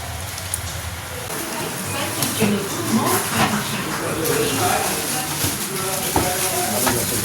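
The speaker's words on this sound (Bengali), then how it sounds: "বাবারে বৃষ্টি ঝরেই যাচ্ছে।" Heavy rain pours down steadily near a house stairway, a dense continuous hiss with scattered drips and splashes, while people talk over it.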